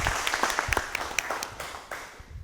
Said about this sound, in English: let's give Amy Wirtz a warm round of applause